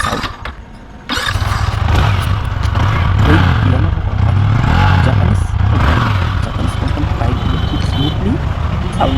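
A Yamaha R15 sport motorcycle engine starts and runs close by at a steady, throaty idle with slight revs, loud and continuous.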